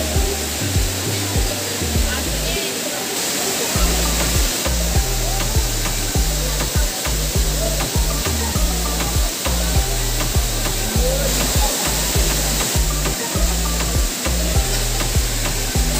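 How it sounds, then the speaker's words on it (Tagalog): Pinlac Falls, a waterfall in Infanta, Quezon, roars with a loud, dense, unbroken rush of falling water close by, masking most other sound. "Ito na yung Pinlac Falls, nandinaw din ang tubig."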